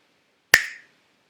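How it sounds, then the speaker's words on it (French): A single sharp finger snap, crisp and close, ringing briefly in an otherwise silent room. "Et à mon claquement de doigts"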